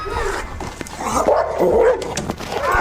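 A pit bull barks and whimpers up close, mixing short sharp barks with high, drawn-out whines and yips in an agitated, uneven rhythm that carries all the way through.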